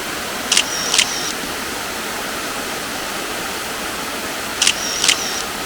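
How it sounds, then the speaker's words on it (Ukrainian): Two pairs of crisp DSLR camera shutter clicks, one pair near the start and another about four seconds later, over a steady rushing background like flowing water near a mountain waterfall. "Я взяв зеркалочку, зроблю декілька кадрів і буду їхати."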